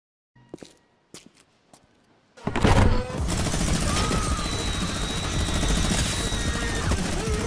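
A mythic minigun firing in Fortnite: a few quiet clicks and taps, then a sudden loud, continuous roaring stream of rapid fire that holds steady for about five seconds, close and dense.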